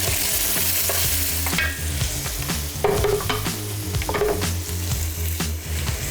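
Brown onion paste fries with a steady, close sizzle in a pan while a spoon scrapes and stirs through it in repeated strokes, with ginger and garlic paste already added; no one speaks.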